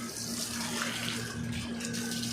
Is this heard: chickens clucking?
no